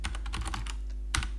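Keystrokes on a computer keyboard while entering a command in a terminal: a quick run of soft, close clicks followed by a pause and one firmer tap, like pressing enter, with no voices.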